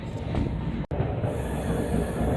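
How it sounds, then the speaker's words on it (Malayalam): Train wheels squeal steadily as the carriages bend around a curve, a loud, continuous metallic screech over rumbling rail noise, broken by a brief dropout near the start. "ഈ ട്രെയിൻ വളഞ്ഞ് അവസാനം ഇതൊരു ടേൺ അടിക്കും"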